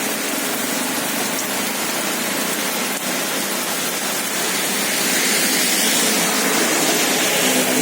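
Heavy morning rain lashes down with strong wind, making a dense, steady, loud roar of hiss and spatter that swells slightly toward the end, with no voices.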